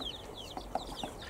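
Chicks and hens in a hen house give soft high cheeps and a few low clucks, faint and intermittent, with no talk.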